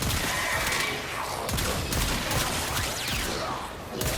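A Laetum pistol firing in normal mode in the video game Warframe, a dense volley of sharp shots and impact bursts, loud and close throughout.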